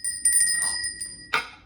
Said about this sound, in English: She loves ringing that bell.